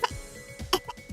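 A woman gives a few short, high, babyish coughs in quick succession, close and fairly quiet, with little else around them.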